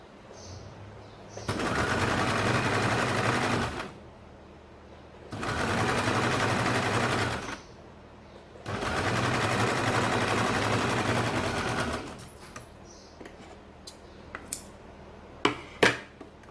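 Sewing machine stitching the edge of a baby frock, three sustained bursts of fast motor whirring a couple of seconds each separated by quiet pauses, then a few sharp clicks and handling taps near the end.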